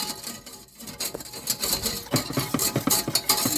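Flour being stirred into lukewarm water in a saucepan for stuffed cabbage, a utensil scraping and tapping in irregular strokes, close and fairly loud, with a steady hum behind it.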